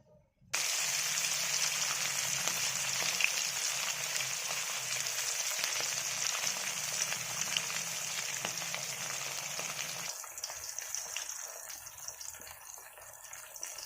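Fish rubbed with salt and turmeric goes into hot oil and fries with a loud, steady sizzle that starts abruptly and continues close up, crackling and spitting, easing slightly toward the end.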